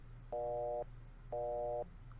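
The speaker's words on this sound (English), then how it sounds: "I'll just hit the redial button on my phone." Telephone tone after pressing redial, two identical steady electronic beeps about half a second each, separated by a short gap, clean and moderately loud over faint background hiss.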